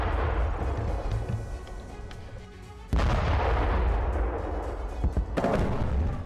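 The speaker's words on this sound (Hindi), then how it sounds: "यूक्रेन की पैदल सेना पर कॉर्नेट 80 GM से अटैक किया गया है" A Kornet anti-tank missile strike on Ukrainian infantry sounds as heavy, distant booms over a continuous low rumble, with two sharp blasts cutting through the din.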